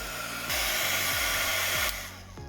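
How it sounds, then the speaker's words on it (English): A heat embossing tool blows a steady loud whoosh as it melts embossing powder, switching on sharply and running for about a second and a half before cutting off. "now I will just heat emboss this just to get that powder melted"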